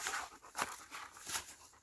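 A dog whimpers outdoors during a potato harvest, giving a few soft, high, thin whines in short bursts, faint and close with light background noise.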